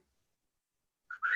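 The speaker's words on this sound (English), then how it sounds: "Whistle." A short, fairly high whistle sounds twice in quick succession after a long silence, the second blast longer and stronger, heard close and alone.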